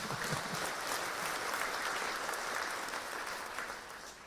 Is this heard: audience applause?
yes